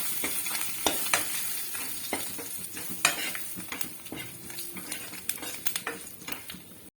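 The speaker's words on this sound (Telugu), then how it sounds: "ఇలా తాలింపు పెట్టుకొని మనం పప్పులో వేసుకోవాలండి." Tempering spices with coriander, curry leaves and chili powder sizzle and spit in a hot pan for leafy-greens dal, steady frying hiss close up with a utensil stirring and scraping against the metal.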